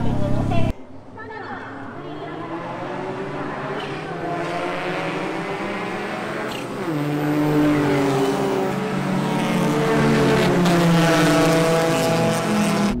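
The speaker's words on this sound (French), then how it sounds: "Départ de la course d'endurance de 2 heures, les feux passent au vert et c'est parti." Race cars starting a two-hour endurance race on a Japanese circuit, a massed engine roar building after a sudden cut, rising in pitch with a surge around midway, while a voice speaks over it.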